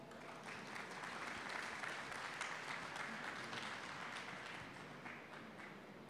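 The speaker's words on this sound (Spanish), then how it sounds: "Denle un aplauso," Audience applause at a Spanish-language entrepreneurship talk on legal basics, steady dense clapping sustained throughout, fairly loud and even with no talk over it.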